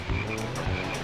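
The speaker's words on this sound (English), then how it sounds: "just looking at the frogs" Frogs croak steadily in the Dragon Forest area of Diddy Kong Racing, a continuous game-world chorus of repeated croaks with no talk.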